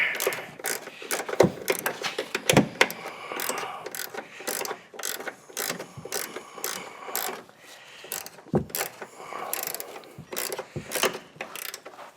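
A hand ratchet clicks in rapid bursts while loosening nuts during a front CV axle replacement on a 2007-2018 Chevrolet Silverado, close and crisp, with short pauses between runs of ratcheting.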